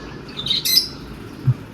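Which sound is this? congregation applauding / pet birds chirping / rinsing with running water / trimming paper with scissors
pet birds chirping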